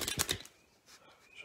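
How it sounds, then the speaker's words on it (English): Playing cards riffle-shuffled and spread into a showy fan during a magic routine, a quick burst of crisp fluttering card clicks up front, followed by fainter soft rustling as the deck settles. "shuffle the cards like this, but instead of bridging them together first, you do a fan like this"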